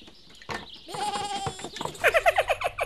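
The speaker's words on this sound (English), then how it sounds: "Let's rescue the poor goat." A goat bleats in a rapid, wavering series of cries near the end, preceded by a few shorter bleats and background clatter in an animated village scene after an earthquake.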